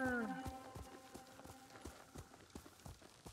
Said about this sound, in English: I thought for sure I heard a horsey that wasn't my own.